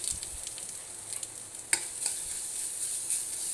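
Ground garlic, coriander, cumin, curry leaf and dried chili paste sautéing for wedding-style rasam, a soft steady sizzle with light stirring scrapes and one sharper clink, no voices.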